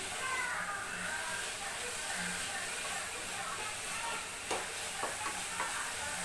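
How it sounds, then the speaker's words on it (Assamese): Dal cooking in a pan while being stirred, a steady sizzling hiss with a few sharper scraping knocks of the utensil, with faint low talking underneath. "ভালকৈ লৰাই দিম।"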